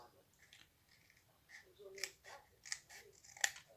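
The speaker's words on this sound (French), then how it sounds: "je vais venir découper le petit bout qui dépasse" Small scissors snip off a protruding bit of material while making a little craft letterbox, giving a few quiet, crisp cuts spaced over a few seconds against near silence.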